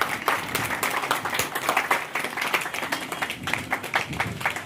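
An audience at a village ancestor-remembrance gathering in Dihor claps together, a dense, fairly loud patter of many hands with uneven surges throughout.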